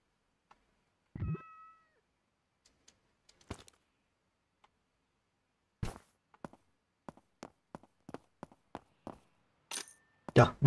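Game cat in a computer repair shop simulator gives a short meow early on, followed by scattered sharp clicks and taps in near silence, with a brief tonal blip later; no talking.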